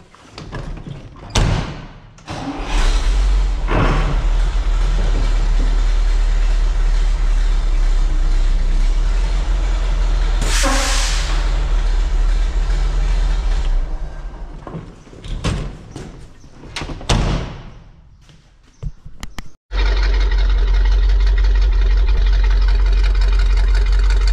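A Chevy vehicle's engine runs with a loud, steady low rumble, broken briefly by thumps and a door-like clatter before the idle resumes, close by.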